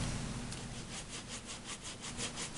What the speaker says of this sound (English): I rub the stamp instead of patting it.